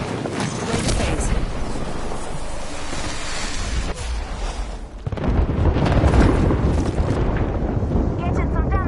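Airstrike explosions in the video game Apex Legends rumble as a dense, continuous roar of booms, dipping briefly midway before a louder wave of blasts follows, with voice callouts from the game mixed in.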